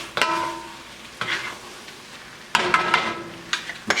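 Moo shu tofu stirred in a hot pan, with four bursts of scraping and sizzling toss about a second apart over a low background frying hiss.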